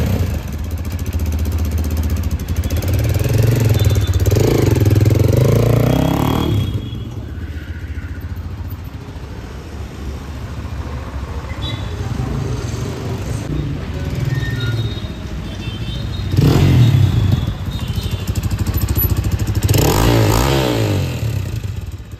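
Hero Xpulse BS6 motorcycle fitted with an Akrapovic full-system exhaust, revving up close in loud throaty bursts over a steady engine rumble, with a quieter idle between the surges.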